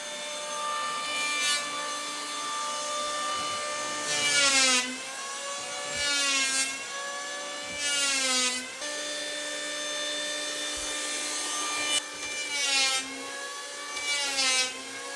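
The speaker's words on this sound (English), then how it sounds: "I'll follow you with the orbital sander." An orbital sander works across a wooden floor, its steady motor whine running loud and close throughout, with the pitch dipping and recovering several times as pressure on the pad changes.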